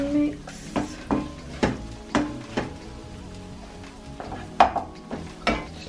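Spoon strokes stir chili flakes, cayenne and spices through a seafood boil pot over medium heat, a steady rhythm of scraping scrapes and light clinks against the metal with soft sizzling beneath.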